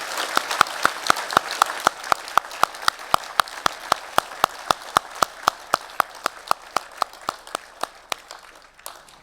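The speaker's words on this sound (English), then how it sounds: "I want you to give them a hearty round of applause" Steady applause from a crowd at a university graduation ceremony in Melbourne, many hands clapping together with regular sharp claps standing out, fading slightly toward the end.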